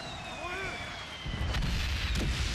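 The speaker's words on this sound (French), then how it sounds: "J'utilise le canon." A descending whistle gives way to a deep, booming cannon blast that rumbles on amid game sound effects in Soldats Inconnus.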